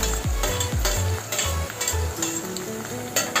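Chopped tomato hits hot frying onions in a pan and sizzles loudly as a spoon stirs, scraping and clinking against the metal in a quick irregular rhythm over the steady hiss.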